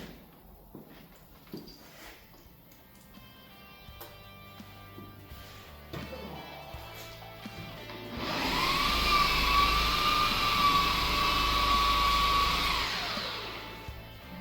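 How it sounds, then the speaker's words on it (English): Random orbit polisher working the paint of a 1994 Nissan D21 Hardbody truck. After quiet handling noises, the motor spins up to a steady, loud whine for several seconds and then winds down. "It's a random orbit polisher, they call it."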